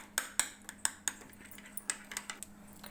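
A utensil clinks against a bowl in a home kitchen as butter, garlic and salt are mixed, giving quiet, irregular taps and scrapes close by, with no speech.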